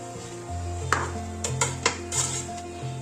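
A spoon scrapes and knocks against a pot while vegetable biryani rice is stirred and mixed, giving several sharp metallic clinks and scrapes over a low steady hum.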